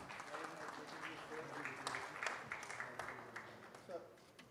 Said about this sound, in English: Do join in with a nice warm round of applause